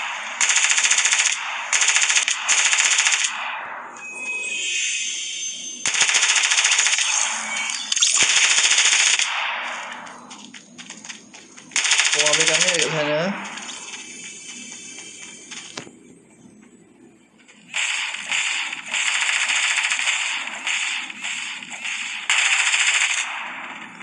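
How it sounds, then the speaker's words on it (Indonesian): Automatic gunfire in Fortnite Battle Royale Mobile, heard as loud, close bursts of rapid shots separated by short pauses and quieter gaps, repeating across the whole stretch. "Saya nak tembak dah."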